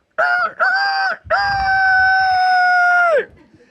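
A person loudly imitates a rooster crowing with the voice, in a long cock-a-doodle-doo. Two short calls come first, then one long sustained crow that holds steady before dropping off, close and clear with nothing behind it.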